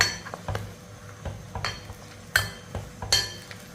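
Pirandai leaves being stirred into homemade herbal oil in a pan: a spoon scrapes and knocks against the metal in irregular sharp clinks, close by, with a faint sizzle underneath.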